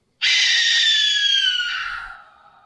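A barn owl gives a single loud, harsh, drawn-out scream lasting nearly two seconds, close and alone, hissing and slightly falling in pitch as it fades out.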